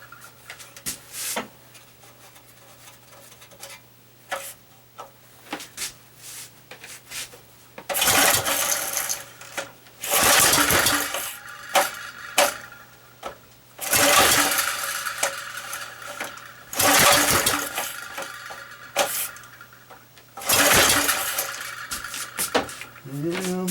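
Repeated recoil pulls on a small engine with a worn recoil starter, four loud bursts of rough cranking each lasting about a second, separated by quieter handling noise and a steady low hum.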